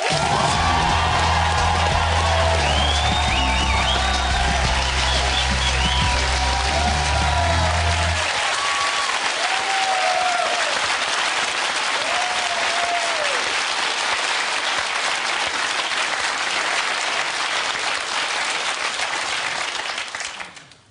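A TV studio audience on the You're Fired show bursts into loud applause, whoops and cheers as fired Apprentice candidate Paula Jones walks on. The clapping stays close and dense for about twenty seconds, with a band playing under the first eight.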